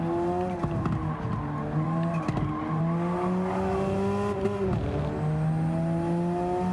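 A race car in the Gran Turismo 7 video game drones steadily at high revs, its engine pitch climbing and dipping through gear changes, with tire squeals cutting in along the way.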